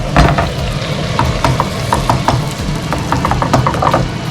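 Chili and ginger sizzle and roast in a pan for pongal, with a steady frying hiss broken by scattered crackles and spits and occasional stirring clatter, close and fairly loud with no voices.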